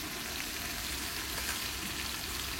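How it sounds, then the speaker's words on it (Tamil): Tomatoes sauté in a pan for a mutton biryani. A dense, close frying hiss stays at a steady level for the whole short stretch and is heard on its own. "தக்காளியெல்லாம் நல்லா வதங்கட்டும்."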